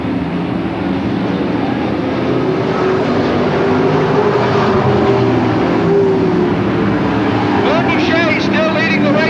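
Stock cars lap an oval track during a 40-lap race at a Lakeport, California speedway, engines droning continuously at a distance under a steady announcer's commentary.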